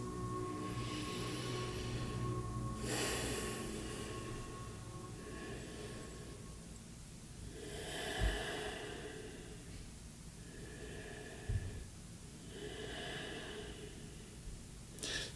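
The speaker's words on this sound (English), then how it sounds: "Stay here for 3 deep breaths" Slow deep breaths during a seated chair yoga routine, about three soft, airy inhale-exhale swells rising and fading at an even pace over a steady faint hiss.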